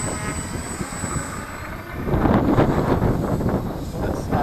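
A Sonic Modell Cessna 182 RC model airplane takes off in light wind, its small electric motor rising from a steady whir to a louder, sustained drone, near and continuous, with wind buffeting the microphone.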